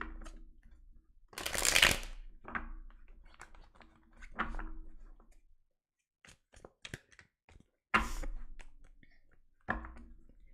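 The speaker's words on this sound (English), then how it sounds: "I'm literally splitting the cards so I can shuffle" A deck of tarot cards is split and shuffled in several loud riffling bursts separated by quieter handling clicks and taps, with no talking.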